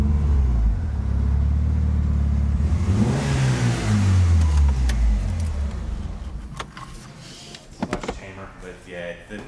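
Mitsubishi Evo 8 exhaust revving loudly up close, a rising then falling throttle pull with deep rumble that fades toward the end, with a few clicks and rattles near the finish.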